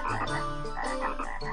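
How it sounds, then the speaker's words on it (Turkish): Frogs croak at a train station in a children's cartoon, a quick run of loud, close, bubbly calls following one another with no voices over them. "Şu kurbağalara bakın."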